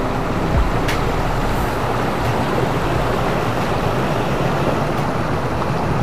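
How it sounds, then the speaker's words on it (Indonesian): A waterfall roughly 30 metres high pours above a village, its steady broadband roar of falling water rushing continuously and close, with no voices present. "Dengan ketinggian air terjun ini kurang lebih sekitar 30 meter"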